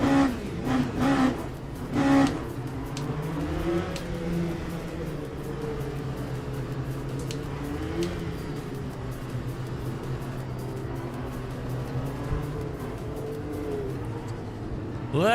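LMP2 prototype race car engine at Spa in the Le Mans Ultimate sim racing game, a steady droning engine tone with shifting pitch from revving and gear changes, continuous and fairly loud with a few sharp transients early on.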